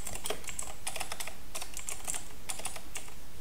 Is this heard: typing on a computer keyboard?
yes